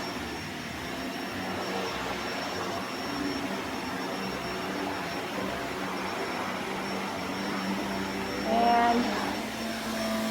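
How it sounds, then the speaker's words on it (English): A Shark NV752 Rotator Powered Lift-Away TruePet upright vacuum cleaner runs with a steady, loud whirring roar throughout, a brief surge near the end as it moves, while someone talks over it. "It seems to be picking up pretty good. You can definitely feel the suction."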